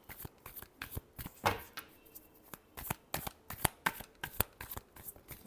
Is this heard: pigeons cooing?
no